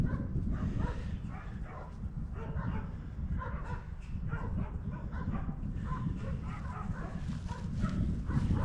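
Dogs are out at night, barking and yipping repeatedly with some whimpering, at moderate distance over a steady low rumble of background noise.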